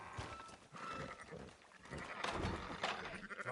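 Sheep bleat among livestock in Red Dead Redemption 2, with a steady, busy background of farm-animal noise and possible hoof clops throughout.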